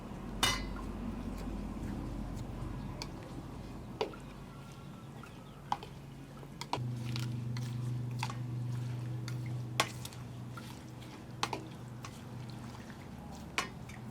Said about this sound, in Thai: แล้วก็คนผักบุ้งให้เข้ากับแป้งนะคะ